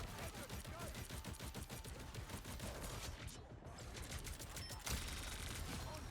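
Rapid gunfire from Marvel Rivals rattles on without pause, dense and even, with a brief dip in the middle before the shooting carries on.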